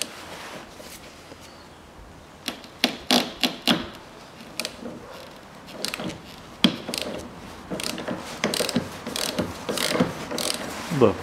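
Repeated sharp metallic ratcheting clicks in irregular bursts, close and loud, with some mechanical clunks between them, as a ratchet wrench loosens the 21 mm central strut nut on a 2011 Chevrolet Epica.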